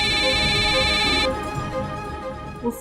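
A phone rings with an electronic ringtone for an incoming video call, a steady tonal ring that cuts off partway through, leaving quieter background sounds.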